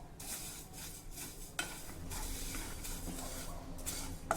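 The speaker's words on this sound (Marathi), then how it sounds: "मंद गॅसवर ही बडीशोप आपल्याला खमंग भाजून घ्यायची आहे।" Fennel seeds roast in a pan over a low gas flame, a soft close rustle and sizzle broken by periodic stirring sweeps and a couple of light metallic clinks.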